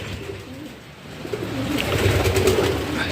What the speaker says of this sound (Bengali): এটা হলো মাদির লফট মাদির পোর্শন কবুতর